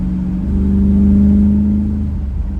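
A Chevy S10 with a 305 engine and a mini spool turbo holds a steady rev near 2,500 RPM under light throttle, producing a smooth, close, even drone that swells slightly in the middle.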